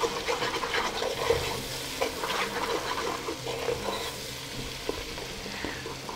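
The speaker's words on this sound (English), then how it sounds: "Now this is going to take some time to really fry." Yellow fava beans seasoned with salt and pepper fry in a pan with a steady, even sizzle and the occasional stir, running on without a break.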